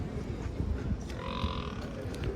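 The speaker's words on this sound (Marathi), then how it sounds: "टॉप क्वालिटीच्या हरियाणाच्या म्हशी आहेत." A Haryana buffalo lows in a drawn-out bellow at a busy cattle market, amid a steady low rumble of crowd and animal noise.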